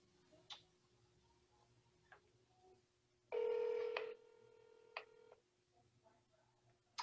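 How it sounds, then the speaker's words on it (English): A phone call is placed: faint ticks and clicks, then a loud steady ringback tone of about a second, a beep, and more quiet clicks afterward in a hushed room. "Let's call this person."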